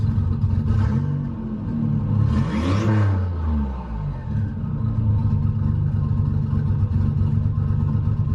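A 1988 Nissan 300ZX Z31 engine rumbles loudly up close, with a couple of quick revs rising and falling before it drops back to a deep, steady idle.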